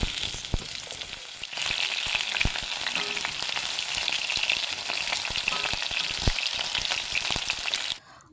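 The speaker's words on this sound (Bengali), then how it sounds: "কড়াই বসিয়ে তেল দিয়ে দিয়েছি দিয়ে কেটে রাখা আলুগুলো একটু ভালোভাবে লাল লাল করে ভেজে নেব" Cut potatoes fry in hot oil in a wok until reddish-brown, giving a loud, steady sizzle with scattered crackles and occasional stirring clicks that ends abruptly near the close.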